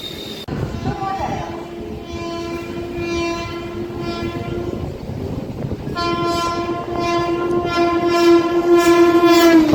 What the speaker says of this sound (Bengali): 13162 Tebhaga express, Balurghat two Kolkata station.